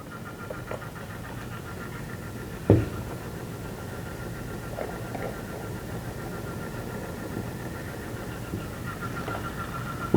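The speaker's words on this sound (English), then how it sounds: "Sampling pump is turned on." A GasID sampling pump runs with a steady mechanical hum and vibration at close range, one brief knock early on and no talk.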